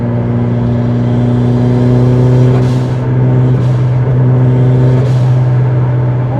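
A Mitsubishi Lancer Evolution 7 engine while driving: a steady, loud droning hum with a held tone and a few soft whooshes as the car moves along.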